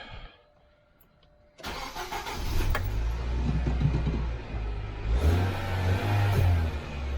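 A car engine with a freshly repaired exhaust cranks and starts after a quiet moment, then idles steadily and fairly smoothly, with a slight rev near the end.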